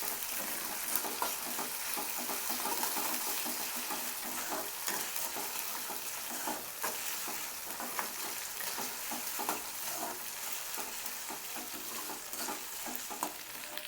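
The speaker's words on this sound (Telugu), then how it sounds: "ఈ అల్లం వెల్లుల్లి పేస్ట్ కూడా కొంచెం ఆయిల్లో వేగనివ్వండి." Ginger garlic paste frying in hot oil with prawns, giving a steady, dense sizzle throughout with faint stirring scrapes, close and continuous with no talking.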